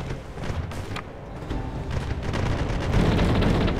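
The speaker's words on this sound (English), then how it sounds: "Unleash the 3 concussive cannon volleys dealing damage each." Three concussive cannon volleys firing in the pirate video game Republic of Pirates, heard as loud, rumbling booms that swell into a sustained, heavy roar.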